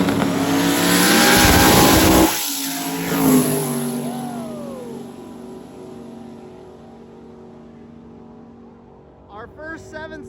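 Drag racing cars launching down the strip at a stick-shift event, a loud roaring engine blast that cuts off abruptly, then fading rumble and a distant engine burst near the end, with an announcer talking over it.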